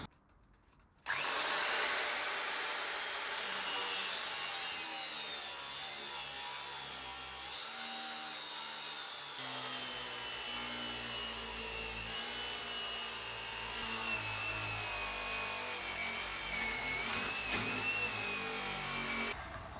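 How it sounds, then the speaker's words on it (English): A 9-inch angle grinder cuts into a steel safe with a loud, continuous, close abrasive grinding whine that runs almost without a break after a brief quiet start. "the other option is to bring out a 9-inch grinder"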